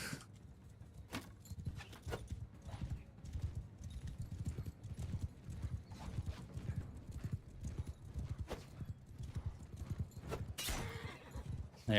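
Horse hooves clip-clop steadily throughout a Mount and Blade: Bannerlord battle, a rhythmic clatter of galloping with occasional sharp impacts and a brief neigh, no talking over it.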